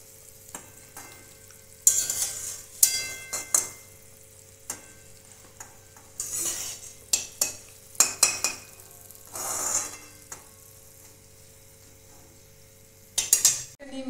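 Paratha nimki fry in oil with a soft, steady sizzle, punctuated by sharp clinks and scraping from a utensil stirring in the pan.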